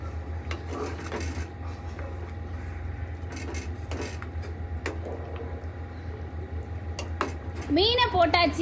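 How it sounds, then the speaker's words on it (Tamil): Washed pieces of thirukkai fish go one by one into a masala gravy in a pan, giving scattered soft plops and small clinks against a low background hum, with a voice briefly heard near the end. "நம்ம கழுவி வச்சிருக்க மீனை எடுத்து ஒவ்வொன்றா போட்டுடலாம்."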